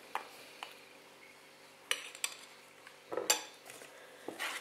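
A spatula gently folding flour, baking powder and cocoa into eggs in a bowl for a Valentine's cake, faint scattered clinks and scrapes against the bowl with quiet pauses between strokes.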